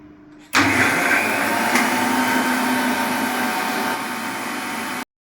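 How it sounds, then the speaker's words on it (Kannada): A mixer grinder abruptly starts and whirs steadily, grinding grated coconut with water to draw out coconut milk. The loud motor drone holds for about four and a half seconds, eases slightly, then cuts off. "ಇನ್ನೊಂದು ಸ್ವಲ್ಪ ನೀರು ಹಾಕ್ಕೊಂಡು ರುಬ್ಬಿರ್ತೀನಿ."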